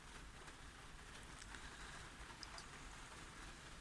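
Steady rain drums on the roof of a parked van in London, a dense, even hiss of patter close overhead with no voices, holding constant throughout.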